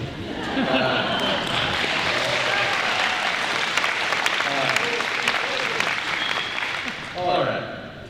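An audience at a high school honor graduate night breaks into sustained applause, dense steady clapping from a crowd that holds for several seconds and then dips as a voice speaks near the end.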